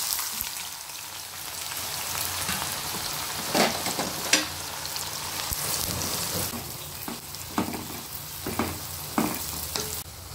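Onions frying in hot oil in a heated pan for a chicken fry, a steady close sizzle with crackles and occasional stirring clicks.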